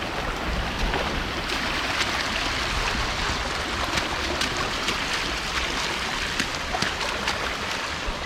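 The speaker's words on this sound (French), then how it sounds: "Regardez, du coup, il y a des petites cascades éphémères." A small, muddy, short-lived waterfall on Réunion Island flows during rain, a steady rushing wash of water, close and constant, with no talking.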